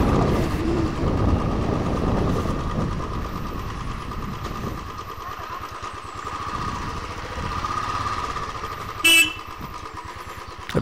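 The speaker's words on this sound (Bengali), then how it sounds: "এটা বাস ঢুকে গেছে।" A bus pulling in amid busy road traffic beside a toy train line, a rumbling engine and mixed traffic noise with a short, loud horn toot near the end; no talk.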